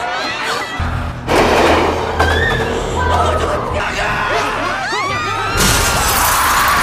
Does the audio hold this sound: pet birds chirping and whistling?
no